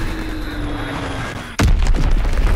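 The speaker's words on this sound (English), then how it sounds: "Enemy bomb incoming. Get to cover." A bomb blast in the World War 2 Call of Duty shooter lands with a sudden heavy boom midway, cutting through steady battlefield rumble and leaving a loud, rolling roar of debris and noise behind it.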